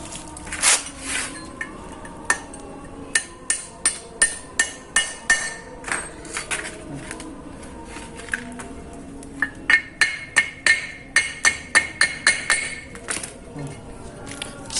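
A screwdriver is struck against the outer part beside a wheel rim during a locking step, giving sharp metallic taps close by: scattered hits at first, then steady rhythmic runs of strikes.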